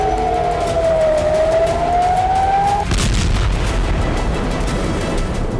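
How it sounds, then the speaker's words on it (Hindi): A red alert air raid siren wails across Israel during rocket attacks, its loud tone sliding down and back up, then breaking off into heavy booming rumbles and crackling blasts that fill the rest of the clip. "रात भर इजराइल में रेड अलर्ट सायरन बजते रहे।"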